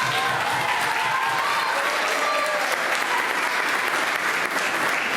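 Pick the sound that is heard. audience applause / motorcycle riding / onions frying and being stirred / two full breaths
audience applause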